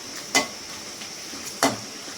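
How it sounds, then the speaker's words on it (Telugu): Dried chilies frying in a pan under a faint steady sizzle, broken by two distinct clinks of a spoon stirring them, with no talking. "ఇది ఇప్పుడు మనం మిరపకాయలు వేసి వేయించుకుందాం."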